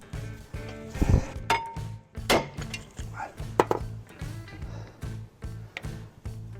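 Sharp metallic clanks and thuds strike repeatedly at an irregular pace, close by, with ringing bangs from a hammer on front brake parts of a 2013 Toyota Camry.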